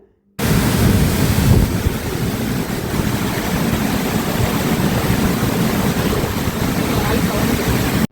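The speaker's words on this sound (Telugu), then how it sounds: "వాటర్ సౌండ్ కూడా చూసారా ఎలా వస్తుందో ఫుల్ వాటర్ ఉంది" Loud, continuous rushing water roars without pause at Dindi Reservoir, a dense broadband wash like water pouring through a dam outlet.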